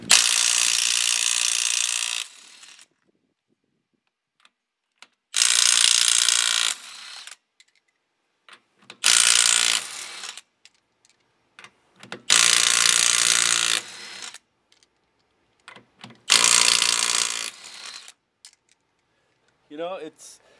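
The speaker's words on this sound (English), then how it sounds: "1/2 inch impact wrench to see if we can get the lugs off of this Toyota RAV4" Kobalt 24V brushless 1/2-inch impact wrench hammering lug nuts off a Toyota RAV4, five loud, close bursts of rapid rattling impacts lasting about two seconds each, separated by quiet gaps, no talking.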